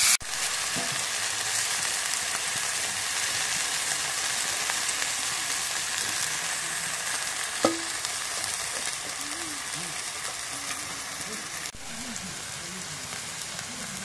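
Onions and chillies fry in hot oil with a steady, even sizzle that runs throughout, with a few faint clinks of a utensil against the pan.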